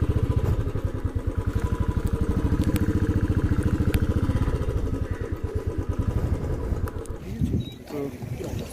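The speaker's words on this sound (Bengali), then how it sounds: "বাইক এখানেই পার্ক করতে হবে।" A motorcycle idles beside Mirik Lake in Darjeeling, its engine putting out a rapid, even thumping pulse, loud and close, that fades and settles near the end as it is parked.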